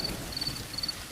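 Heavy rain falls steadily at night, a dense, continuous hiss of downpour lasting only a moment, with no voices.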